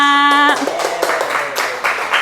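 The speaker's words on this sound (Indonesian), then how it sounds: "Oke, beri tepuk tangan untuk kita semua." Classroom clapping as students applaud together, brisk uneven hand claps close by following a brief sustained voice at the start, continuing for a couple of seconds.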